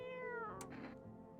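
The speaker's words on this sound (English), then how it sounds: "God, you are some kitty cat." A cat meows in the horror video game No I'm Not a Human, a drawn-out, wavering cry that fills the moment, followed by a short chirp near the end, close and clear with no talking.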